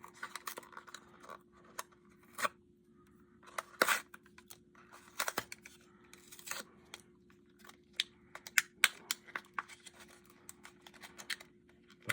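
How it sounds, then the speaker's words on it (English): Scissors snipping open a Berkley fishing lure pack: faint, sparse crisp snips and plastic crinkles scattered irregularly, with quiet rustling between them. "I'll just do a little snip here"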